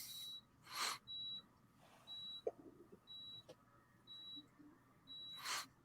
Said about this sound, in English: If you can hear that beeping, that would be my backup power just going on.